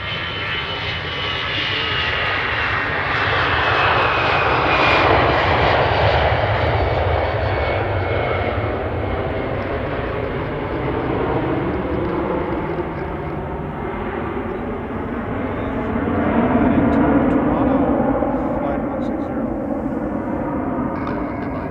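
A fixed-wing airplane departs runway 02, its engine roar steady and loud throughout, swelling slightly near the end as it climbs away.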